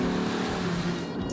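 Muscle truck engine, a Viper or EcoBoost powered build, revving hard under full-throttle acceleration, a loud close steady roar filling the short moment with no talk.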